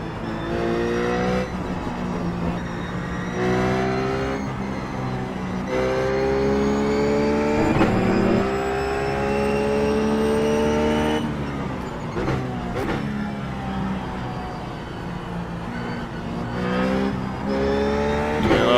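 A Ruf GT3 race car driven in iRacing at Spa, its engine loud and close as it revs up through the gears, with sudden drops on the shifts and a sustained high wail between them.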